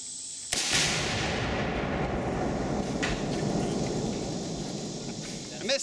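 Nearly five pounds of tannerite detonate against a microwave outdoors near woods. A sudden heavy blast booms and then rolls into a long, rumbling roar that fades slowly.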